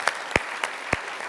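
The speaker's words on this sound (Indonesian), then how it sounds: "kita kasih tepuk tangan untuk Tia" An audience claps for a guest named Tia at a Jakarta talk-show event: a steady patter of applause with a few sharp, evenly spaced claps standing out close by.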